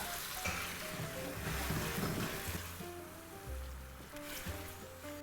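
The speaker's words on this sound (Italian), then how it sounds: "Metto un po' d'acqua di cottura." Pasta cooking water poured into a hot pan of oil, garlic and basil for spaghetti brings a steady, fairly loud sizzling hiss that surges and eases, with faint tonal sounds in the background.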